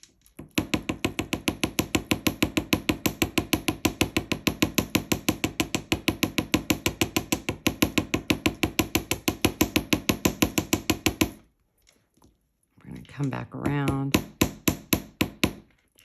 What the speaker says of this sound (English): we're tapping on the back side of the wire